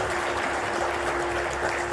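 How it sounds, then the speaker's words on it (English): Sustained applause from an audience at a Kargil Honours 25th anniversary event as the chief guest, General Anil Chauhan, comes to the stage; dense, steady clapping with a constant hum underneath, no voices. "A big round of applause,"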